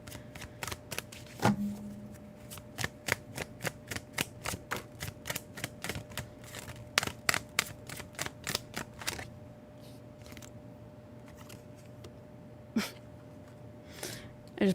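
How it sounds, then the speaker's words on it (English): A tarot card deck is shuffled, producing a quick series of crisp, close card riffles and taps in uneven bursts, then a few scattered clicks in a quiet room. "I was, like, shuffling my deck"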